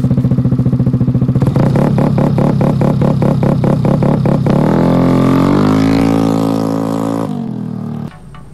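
An automatic scooter fitted with a launch control module, the engine held against a rapid stuttering limiter rhythm, then revving up smoothly into a sustained high whine before dropping off abruptly, loud and close.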